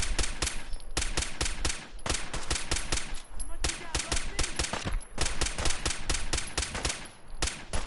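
Rapid, loud pipe rifle fire from Fallout 4 rattles off in dense repeated bursts with brief pauses between volleys, close and dominant throughout.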